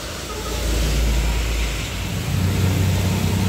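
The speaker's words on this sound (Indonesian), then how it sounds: "dibuka kali ini ada bus pariwisata Muda Belia 98" Muda Belia 98 tour bus carrying a kindergarten group, its engine rumbling past loud and close in a steady low drone that swells slightly and holds, no speech heard.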